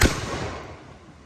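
A musket fires at a Revolutionary War demonstration at Yorktown, a single sharp, loud black-powder report at the start followed by a decaying rumbling echo, with no talk.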